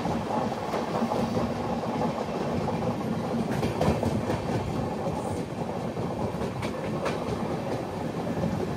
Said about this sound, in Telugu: అదిగోండి Amrit Bharat express Malda town to SMVT Bengaluru, train number 13434.